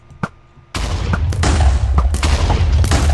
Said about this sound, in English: infinite explosions